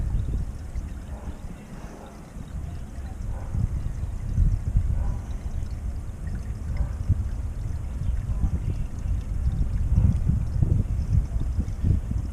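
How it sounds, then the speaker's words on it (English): A toilet flushes with a continuous low rushing and gurgling of water, steady and fairly loud, heard from a short distance, after a clogged sewer line at the toilet flange is cleared. "here comes the flush. You can hear it from here."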